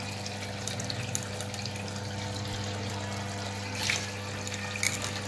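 Water running and splashing in a home sink while clothes are hand washed with Comfort fabric softener, a steady wash of sound with a low hum beneath and a few louder splashes, no talking.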